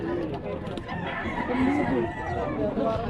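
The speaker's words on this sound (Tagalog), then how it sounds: "Manok na Andre." A rooster crows nearby amid a busy pet market din in Baliwag, with chatter and other fowl sounds mixing in the background.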